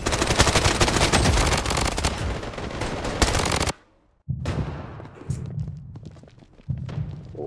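Burst-fire gun in the shooter Blood Strike on a battle-royale island map, shooting loud, dense rapid volleys for several seconds, then a sudden silent gap, followed by more scattered shots and thuds at a lower level.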